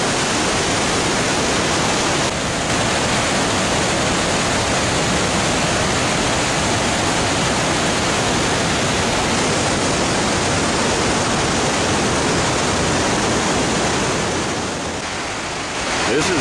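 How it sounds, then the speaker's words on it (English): Upper Deception Falls on the Wenatchee River pours heavy water in a loud, unbroken broadband roar that holds steady throughout, close to the listener. "So this is the upper part of Deception Falls"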